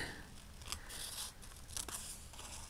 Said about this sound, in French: Et on va découper pareil notre calque.